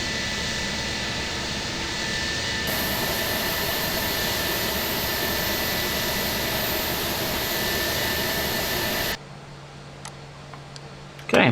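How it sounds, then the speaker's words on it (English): Airbus A320 jet engines run in the Prepar3D flight simulator, a loud steady roar with a persistent high whine, holding for about nine seconds before cutting abruptly to a quiet cockpit hum with faint clicks. "Shutting down the engines."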